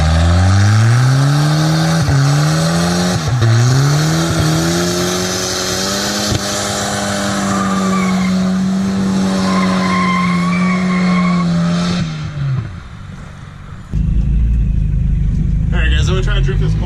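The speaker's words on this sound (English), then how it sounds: "Let's do a burnout in this thing." A Volvo 940 does a burnout, its engine held at high revs while the tires squeal loudly and steadily, then it drops off and the car pulls away; a voice speaks over the noise.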